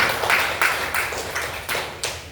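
A small group claps for fellow students after a class group presentation in Indonesia, a few loose, separated bursts of hand claps spaced unevenly and heard close by in a quiet room.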